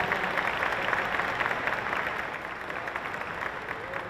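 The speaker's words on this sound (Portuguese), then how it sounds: "Salva de palmas." A crowd applauds steadily, a dense wash of many hands clapping at moderate distance, fading slightly toward the end.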